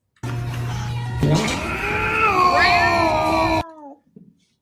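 An excited cat meows and chatters in a long, drawn-out cry with bending pitch, loud and close, before it cuts off abruptly into silence.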